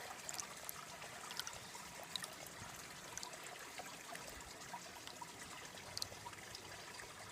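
Water gently washes black sand around a gold pan while prospecting in Alaska, a faint soft trickling and sloshing with small splashes, quiet and steady with no talk.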